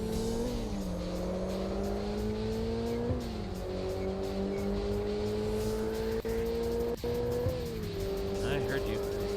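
Car engine revving high in a street racing video game, a steady strained drone with shifting pitch held near the redline throughout, with talk over it.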